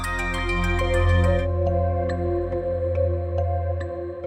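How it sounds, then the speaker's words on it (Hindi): A phone ringtone plays loudly and close, a bright repeating melodic tone over a steady hum, with no voices. "सारा फोन बज रहा है, उठा क्यों नहीं रही हो?"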